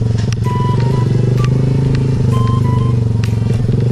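A Honda RS125 FI motorcycle races a Raider J FI, its small engine droning loudly and steadily at high revs throughout, with a faint intermittent whine and occasional brief clicks over the constant buzz.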